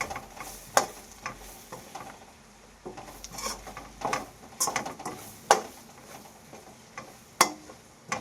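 Spinach curry mix with turmeric and pepper powder roasting in a pan, a soft sizzle under scattered sharp clicks and scrapes of a spoon stirring against the metal, steady and close.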